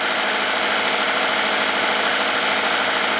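Chevy Equinox engine with P0016/P0011 codes, a known good at idle: a steady, continuous mid-range running hum with even vibration, close and fairly loud, no talking.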